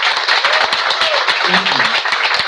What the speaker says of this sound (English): Round of applause, guys.